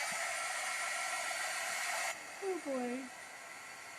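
A hair dryer blows steadily on wet watercolor paper, a loud close hiss that cuts off about halfway through, after which someone speaks briefly over faint room noise.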